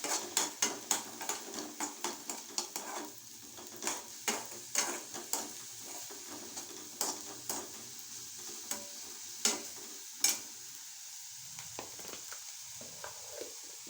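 Food sizzles in a pan while a utensil scrapes and taps against it in quick, irregular strokes, steady and close, with no voices.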